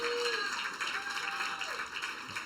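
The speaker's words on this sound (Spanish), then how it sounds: "Denle el aplauso, Señor, en alabanza." A church congregation claps in praise, a soft, steady applause heard at a distance with faint voices and tones underneath.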